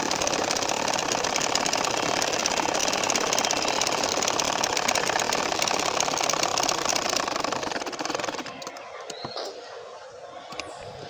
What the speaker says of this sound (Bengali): এখন হাফ ইঞ্চি পরিমাণ ফাঁক রেখে আবারও সেলাই করবো